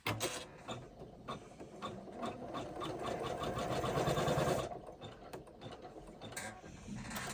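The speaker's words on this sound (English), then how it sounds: "we're going to run step 8, which is going to be our first pleat marker, and it's short stitches" A Janome embroidery machine stitches a pleat marker with short stitches, a fast, steady mechanical whirring and clicking of the needle that runs loud and close, then pauses and restarts.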